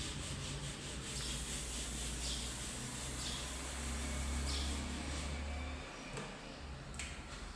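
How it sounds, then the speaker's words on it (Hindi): A board being wiped to erase written figures, a series of close, rhythmic rubbing strokes over a low background hum, with a couple of sharp taps near the end and no speech. "इसको मैं रब करता हूँ"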